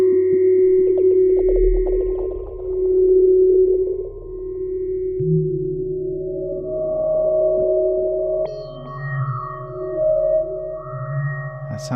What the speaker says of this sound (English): that's the inbuilt delay, which is set to stereo, left and right ping pong